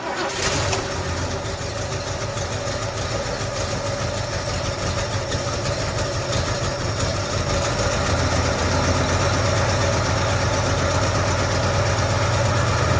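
A 1969 Mercury Cougar XR7 engine with exhaust leaks cranks and catches, then settles into a steady, loud rumbling idle with a slightly uneven, throaty exhaust note.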